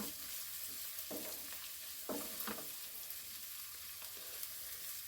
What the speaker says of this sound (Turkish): Şöyle bir karıştırıyorum.